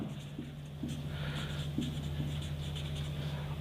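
Chalk or marker writing on a board during a Class 10 chemistry lecture on acids, bases and salts: soft, close tapping and scratching strokes over a steady background hum, with no speech.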